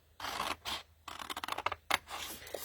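Scissors snip through cardboard box flaps in a craft setting, making a series of close, dry cutting and rasping strokes that come in short bursts with brief gaps between them.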